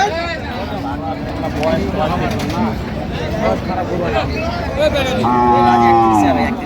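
Cattle low repeatedly at a busy cattle market in Noakhali, Bangladesh, with one long, loud, close moo near the end rising over a steady babble of voices and crowd noise.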